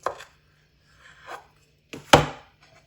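A knife cuts through rolled dough on a board in a home kitchen with a few separate soft strokes, then one sharper, louder chop near the end, and no talking.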